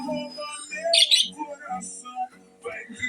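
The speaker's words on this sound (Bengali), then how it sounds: "এই যে হচ্ছে পাখিগুলা" Birds chirp in short bright bursts, a few calls scattered among quiet moments, with a voice speaking over them nearby.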